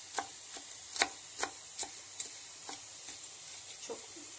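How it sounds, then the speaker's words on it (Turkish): A knife taps a cutting board in a quick, uneven series of light chops, dicing tomato into small cubes, crisp and close, with a quiet background. "Onu da böyle küp küp ufak ufak doğrayacağım."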